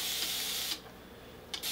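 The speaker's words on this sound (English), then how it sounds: "So I'm going to spray this section a little bit more because it's still a little bit" A spray bottle mists hair product onto a section of hair during a Dominican blowout: one long, steady close hiss, a pause, then a second short burst.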